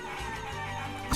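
Chickens cluck in Guacamelee: Gold Edition over a steady bed of game music, with a brief louder squawk near the end.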